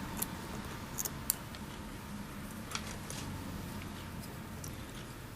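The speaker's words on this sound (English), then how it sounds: "I'm going to trim this one off at an angle, but I'm going to trim it off a little longer" Small scissors snip thread at a fly-tying vise while a March Brown Emerger fly is tied, a few quiet, quick clicks over a soft room background, with no talking.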